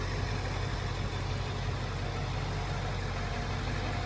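A 2003 Ford F-550 service utility crane truck engine idles steadily up close, a low, even rumble with no change in pitch throughout.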